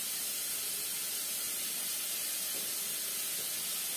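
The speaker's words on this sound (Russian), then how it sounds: "Пускай обжаривается." Rice frying in oil in a pan for pilaf gives a steady, even sizzling hiss that runs unbroken throughout, close and moderately loud, with no speech.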